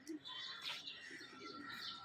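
Pigeons coo faintly at MG Marg in Gangtok, Sikkim. Soft low calls repeat under a steady, distant outdoor hum.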